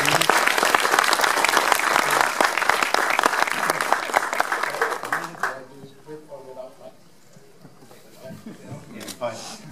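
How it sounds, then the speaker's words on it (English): Audience applause at a film world premiere screening in a Budapest-styled venue in Gothenburg: dense, loud clapping for about five seconds that quickly fades to scattered claps, followed by someone speaking. "So a big hand to Bio Roy as well."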